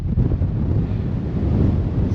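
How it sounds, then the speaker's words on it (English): Strong wind roars and buffets the microphone on a mountain summit in Kintail, Scotland, a steady loud rumble throughout with no talk. "it's very windy up here."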